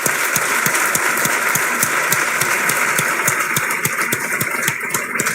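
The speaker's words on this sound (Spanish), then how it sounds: "un aplauso para Cayetana" Audience applause for Cayetana, a dense, loud, sustained clapping with sharp individual claps standing out, rolling on evenly for several seconds.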